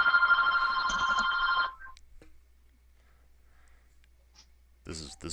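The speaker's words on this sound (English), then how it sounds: "for whatever reason my landline's ringing" A landline telephone rings loudly with a bright, steady electronic tone for under two seconds, then stops, leaving a near-silent room with faint clicks before a brief burst of talking at the end.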